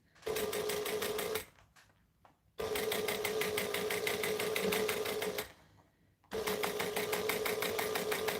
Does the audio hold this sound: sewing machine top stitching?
yes